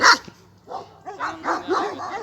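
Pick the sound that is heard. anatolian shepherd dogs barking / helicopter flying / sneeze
anatolian shepherd dogs barking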